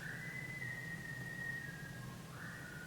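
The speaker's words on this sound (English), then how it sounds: "I'm just gonna wait until he's done whistling." A person whistles a faint, thin, sustained tone in the background that slides in pitch, breaks off briefly and resumes, over a low steady hum.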